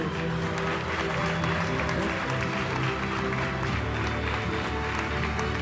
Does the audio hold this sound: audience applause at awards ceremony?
yes